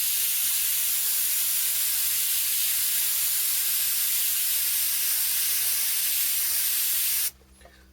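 An airbrush sprays paint onto a T-shirt with a steady, close, continuous hiss that holds evenly for about seven seconds and then cuts off abruptly.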